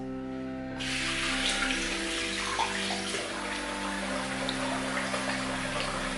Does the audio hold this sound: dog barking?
no